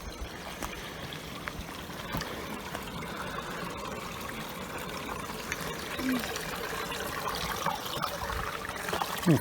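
Water trickles and burbles softly in a small Colorado forest creek, a quiet continuous babble with wind noise and a few faint knocks.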